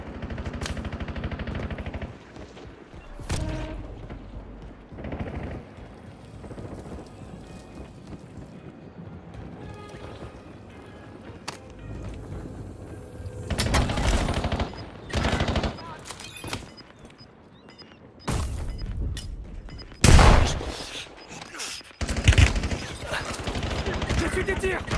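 Gunfire in the shooter Warzone comes in several loud bursts of rapid shots and single cracks, spread through the stretch with quieter gaps, and a voice is heard talking at times.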